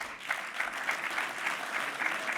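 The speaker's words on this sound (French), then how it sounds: "Je crois qu'on peut déjà les applaudir." An audience at a breaking event applauds, a steady burst of many hands clapping at moderate volume that lasts a couple of seconds with no talking.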